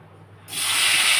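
Brinjal pieces rubbed with salt and turmeric and squeezed of water drop into a pan holding a little hot oil: near-silence breaks into a sudden, loud, sustained sizzling hiss about halfway through.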